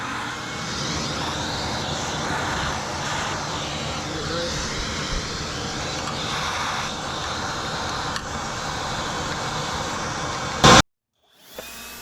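A shop vacuum sucks dirt and debris out of a Husqvarna lawn tractor during cleaning, a steady loud whine and rush running almost without a break, then cutting out abruptly near the end.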